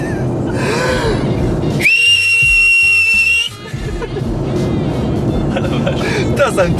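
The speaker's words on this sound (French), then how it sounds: "C'est la première fois que je siffle en voiture." A person whistles inside a car, holding a loud, steady high-pitched tone for about a second and a half over the engine and road noise, with voices heard around it.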